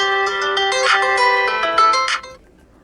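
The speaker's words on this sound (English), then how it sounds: "if you wish to listen how the particular ringtone sounds" A loud pre-installed ringtone on a DOOGEE T40 Pro phone plays a bright, layered melodic pattern of repeated tones for a couple of seconds, then cuts off abruptly into near silence.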